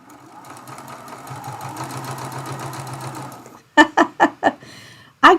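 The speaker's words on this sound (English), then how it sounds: "folding it in half, and sewing my seam." A sewing machine runs a seam through charm pack fabric in a continuous close whir for several seconds, followed by a series of short stitching bursts.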